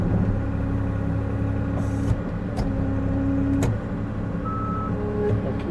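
An Avant 860i compact loader idles with a steady low diesel drone on frozen ground during a snowy firewood job, with a few faint clicks and brief tones over the constant engine hum.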